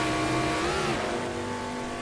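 Simulated race car on the Road America circuit in Assetto Corsa, a steady engine drone with a pitch shift near the one-second mark, continuous and fairly loud with no talking.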